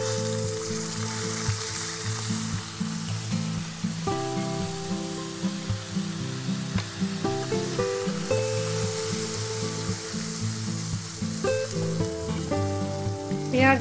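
Onion paste fries in hot oil, giving a loud, continuous close-up sizzle with crackling pops throughout, under faint background music and no speech.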